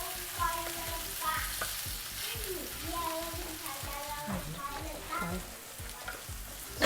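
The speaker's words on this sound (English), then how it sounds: "Look at it sizzle." Mutton tikka frying in a pan with chili, ginger, green chilies and coriander, giving a steady close sizzle with stirring scrapes throughout.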